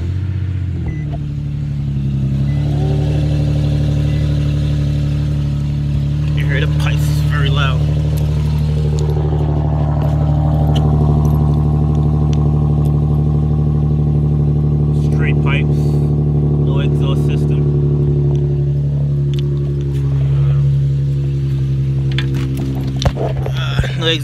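A 2011 Infiniti G37 cold-starts, its engine catching and settling into a loud, steady high idle with a deep exhaust drone held close for over twenty seconds, with faint clicks and brief knocks over it.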